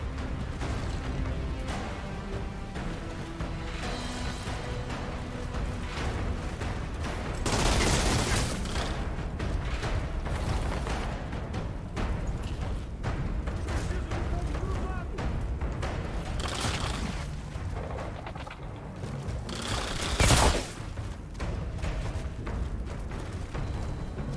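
Rapid bursts of gunfire and booming bomb explosions in the video game Outriders, with a couple of louder blasts standing out over a continuous busy background.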